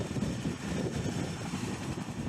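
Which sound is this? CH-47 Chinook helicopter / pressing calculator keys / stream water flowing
CH-47 Chinook helicopter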